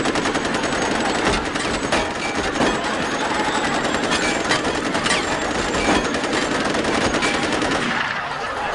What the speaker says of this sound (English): How to use a machine gun.